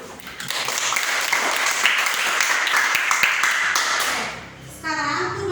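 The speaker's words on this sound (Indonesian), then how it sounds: "Tepuk tangan dulu" A class of schoolchildren claps together in a classroom. The dense, lively clapping lasts about four seconds, then a voice speaks briefly as it dies away.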